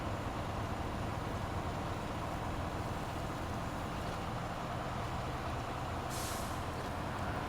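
An old truck drives in the SnowRunner video game, with a steady loud engine rumble throughout and a brief hiss partway through.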